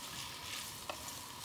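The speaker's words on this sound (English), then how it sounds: "we can hear it start to sizzle. Sizzle, sizzle." Quiet, steady sizzling of food frying in a pan, a soft crackle with one brief sharper pop partway through.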